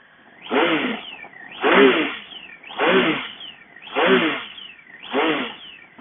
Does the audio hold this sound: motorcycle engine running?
yes